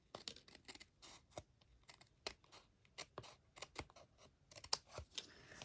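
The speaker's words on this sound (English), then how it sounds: "Just go all the way around and trim it." Scissors snipping around the edge of a plain white paper card in a run of short, crisp, irregular cuts, close up and fairly quiet, with no talking.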